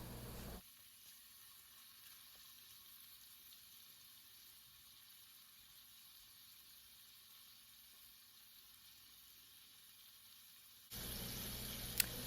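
Sausage sautéing in a pan for a seafood gumbo, a faint, even sizzle that runs steady throughout and grows a little louder and brighter near the end, with no talking.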